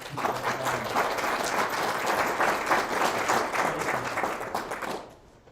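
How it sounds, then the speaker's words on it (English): An audience applauds a keynote speaker at a talk, a dense steady clapping for about five seconds before it stops abruptly. "give a quick round of applause for our keynote speaker today"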